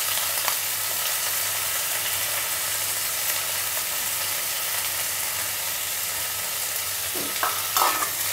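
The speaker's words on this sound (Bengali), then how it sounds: "ভোগ চালগুলো একটু ভাজা ভাজা হয়ে গেলে আমি একে একে মশলা দিয়ে দেব।" Washed bhog rice being stir-fried in a pan with fried potatoes for a Bengali paneer dish, a continuous close, loud sizzling hiss with brief scraping stirs near the end.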